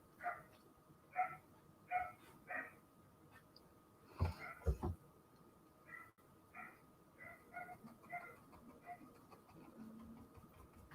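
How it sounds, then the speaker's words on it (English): A dog barks in the distance in repeated short bursts, faint and spaced in uneven groups, with a brief louder thump partway through and a quiet background hum. "Hear that dog?"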